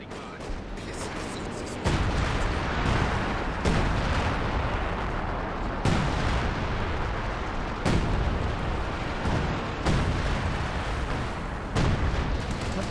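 Repeated artillery blasts and gunfire in the Company of Heroes 2 strategy game, heavy booming impacts landing every couple of seconds over a constant rumble of battle, loud and close.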